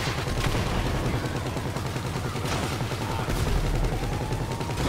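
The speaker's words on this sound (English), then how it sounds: "Shoot him, shoot him, shoot him. He gonna kill us." Continuous dense gunfire in GTA 5 Online, a steady loud rapid rattle of shots that fills the whole stretch with no pauses.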